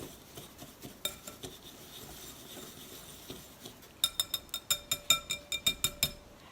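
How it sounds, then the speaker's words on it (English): A metal spoon stirs Epsom salt in a bowl to break up clumps, first with scattered scrapes and clinks, then a quick run of about a dozen sharp, ringing taps close by. "So let's kind of stir this up and get all the clumps out."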